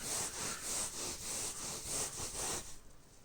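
A pet hair removal glove rubbed back and forth across fabric in short right-left strokes, giving a soft rhythmic scratchy swish about twice per second before it stops.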